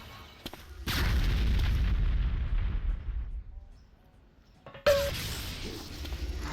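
Heavy gunfire from a video game match in a Duel Masters League playoff bursts out in a sustained, loud barrage, drops to a near-quiet lull, then a sharp blast brings the din back.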